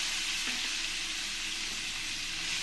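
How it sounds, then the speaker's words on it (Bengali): Onion paste frying with spices in a pan while cooking a Bengali parwal (pointed gourd) curry, a steady dense sizzle that holds loud and close, with a faint stir near the start. "ভালো করে পেঁয়াজটাকে আমি কষিয়ে নেবো"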